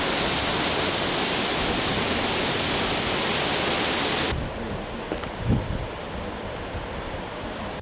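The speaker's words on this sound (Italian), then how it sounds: "Questa che vedete prima era una strada, adesso è un torrente, anzi una cascata." Floodwater pouring down what was a street, roaring like a waterfall after a sudden overnight storm; loud, dense and continuous for about four seconds, then dropping abruptly to a quieter, steady rush with a brief thump.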